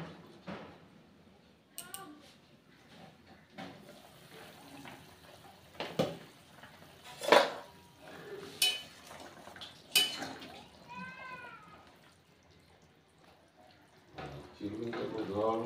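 A pot of rui fish curry with drumsticks and potatoes is stirred, with scattered metallic clinks and scrapes and a sharper clank as the lid goes back on, under a quiet kitchen hush with brief soft speech.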